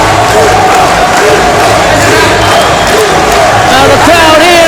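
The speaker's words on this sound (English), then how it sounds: "the crowd here in Japan going crazy for Mirko Crocop" A Japanese arena crowd roars and cheers for Mirko Crocop at his mixed martial arts fight against Randy Blake. The din is loud and continuous, with a commentator talking over it throughout.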